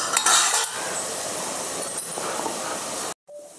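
Carrot frying in ghee, a loud continuous hiss with a few metallic clinks of a utensil at the start, cutting off abruptly near the end.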